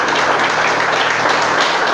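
Dense, steady applause from a church congregation during a service fills the clip evenly from start to finish, loud and close.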